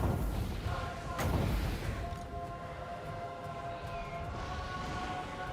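A hell cannon fires artillery in the battle game Total War: Warhammer, with heavy low booms in the first couple of seconds that fade into rumbling battle noise and sustained tones.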